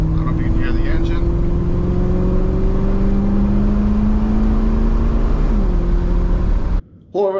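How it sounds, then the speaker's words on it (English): A 1978 Jeep Cherokee engine runs at a steady, loud idle with a droning hum and a slight pitch drift, a voice talking over it before it cuts off briefly near the end. "I don't know if you can hear the engine."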